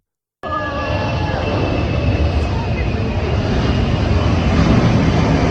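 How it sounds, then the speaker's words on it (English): A giant airplane at an annual air show flies low through the middle of an Australian city, a loud, sustained roaring rush that bursts in suddenly and stays steady. "A giant plane flew right through the middle of a city in Australia as part of an annual air show."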